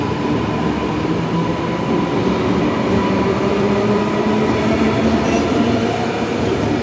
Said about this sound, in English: I think that's the last air train tonight too, perhaps.